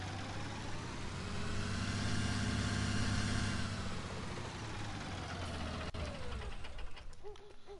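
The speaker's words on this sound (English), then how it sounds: "Really liking that tractor." Tractor engine running steadily in a farming video game, a loud mid-pitched drone that holds for several seconds and then eases off, with faint clicks near the end.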